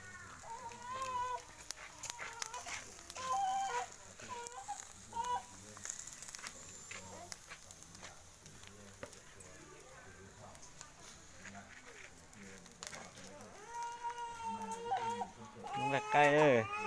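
Chickens clucking in a farmyard, intermittent clucks and calls scattered throughout at moderate distance, with people talking over them.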